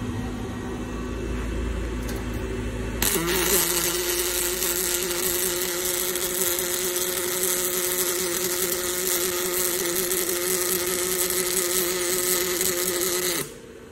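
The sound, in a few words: Fanuc robot welding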